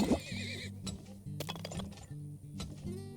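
A horse in the video game Turmoil gives a clear whinny, followed by clinking and gear-like mechanical effects and soft hoof clops, all fairly quiet.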